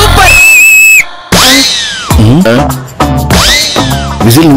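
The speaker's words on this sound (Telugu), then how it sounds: "విజిల్ నువ్వు వేసావా?" A person whistles loudly and piercingly at close range, a long steady high note followed by two rising-and-falling swooping whistles, with short gaps between.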